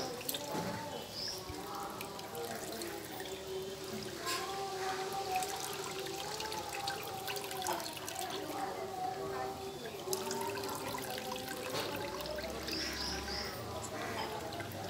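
Banana solution dripping and trickling through a cloth filter as it is squeezed by hand, soft wet splashes and drips under ongoing nearby talk.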